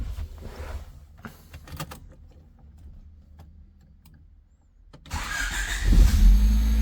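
Honda EG hatchback engine starting: quiet clicks and a low hum from the car, then the starter cranks and the engine catches and revs up loudly, close by.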